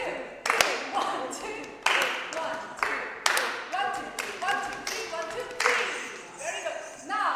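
Hands clap a counted rhythm, sharp claps spaced about a beat apart with a few quicker pairs, close and loud, while a voice speaks underneath and between them.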